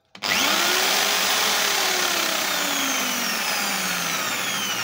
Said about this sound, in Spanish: Hoy es una amoladora. Y para que vean que funciona, hay que prenderla.